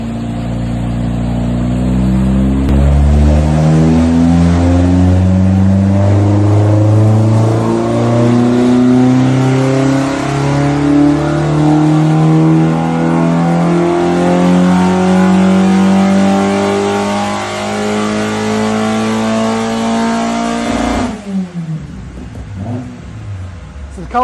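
A Vauxhall Nova with a C20XE engine and individual throttle bodies screams through a power run on a rolling road dyno. It gives a loud, sustained rev climbing steadily toward 7,200 rpm, then cuts off sharply near the end.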